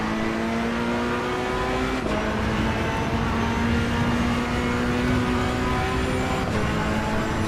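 A race car in the video game Assetto Corsa EVO holds a steady, loud engine drone with a clear tonal whine, briefly dipping at two gear changes before settling back into a sustained high-revving note.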